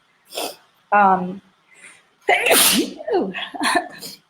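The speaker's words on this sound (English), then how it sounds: "I might sneeze in a second." A single loud sneeze bursts out between short stretches of a woman's speech, close and sharp.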